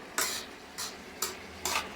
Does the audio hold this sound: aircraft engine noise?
no